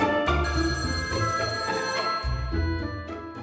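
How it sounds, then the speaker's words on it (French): An old-fashioned telephone bell rings indoors, a sustained metallic trill sounding close and steady for a few seconds, with no talk over it. "Ah, le téléphone."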